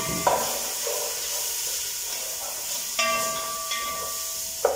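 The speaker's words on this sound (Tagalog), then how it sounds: "so magigisa na tayo, gigisahin na natin yung mga gulay-gulay niya dito" Onion and mixed vegetables sauté in a little oil for an Arabic garsan dish, giving a steady hiss with a few brief clinks and stirring scrapes, close by and without talk.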